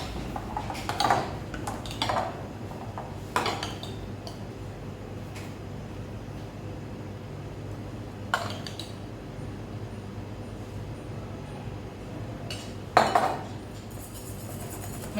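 Metal utensil scraping and clinking against a bowl while ganache is stirred into chocolate mousse, a few sharp knocks spaced across a quiet, steady background.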